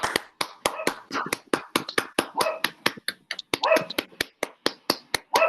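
Scattered hand claps from a small online class audience over open microphones, sparse and uneven rather than a full roar, with some background chatter mixed in.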